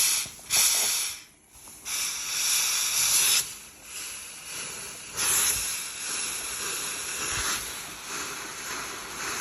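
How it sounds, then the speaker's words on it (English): A handheld steamer hisses in repeated bursts while steam blocking knitted fabric, the loud hissing starting and stopping several times against a quiet room. "It's a steam block."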